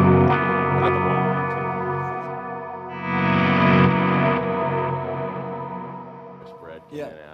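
An electric guitar runs through a G-System effects processor as a big ambient swell. A lush, chorused and echoing wash of sustained notes rises and lingers, fairly loud and close.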